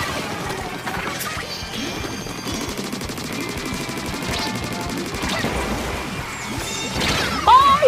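Blaster weapons firing in the video game Splatoon 3, rapid crashing shots and splattering bursts in steady succession with game music underneath, loudest at the very end.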